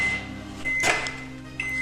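A microwave oven hums steadily while cooking a bowl cake, with a steady tonal drone and a brief louder clunk or rattle near the middle, no talking.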